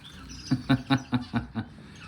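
Pet birds give six short chirping calls in a quick, evenly spaced series, close by and fairly quiet, with a faint background.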